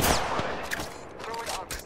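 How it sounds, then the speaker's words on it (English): Distant automatic gunfire from an enemy squad in a video game, rapid muffled bursts that continue faintly beneath other game sounds. "A second squad is firing at us."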